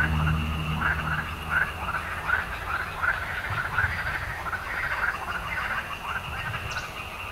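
Many frogs croak along the coastline near Preveza, Greece, at sunset, a steady chorus of rhythmic pulsing calls repeating about twice a second, moderately close over a low background rumble, with no voices.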